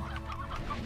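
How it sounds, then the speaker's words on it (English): A hen in the video game Slime Rancher clucks in short repeated bursts, several quick game-like clucks close up with a low hum underneath. "Regular hens."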